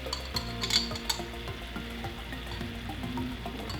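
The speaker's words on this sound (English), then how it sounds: "So we're gonna add 2 tablespoons of capers." Capers added to a simmering lemon chicken piccata sauce in a pan, a soft sizzle and bubbling with a few light clinks and stirring sounds near the start, close and steady with no talk.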